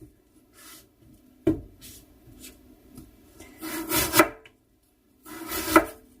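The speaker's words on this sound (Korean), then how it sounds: "이렇게 해서 채를 좀 썰어주세요" A kitchen knife cuts Korean radish into thin strips, producing a few separate bursts of close crisp slicing and board taps with quiet gaps between them.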